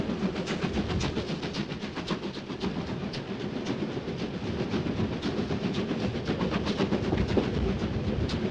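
A railway freight train of many goods wagons rolls steadily past, a continuous dense rumble with rhythmic clicking of wheels over rail joints, loud and unbroken throughout.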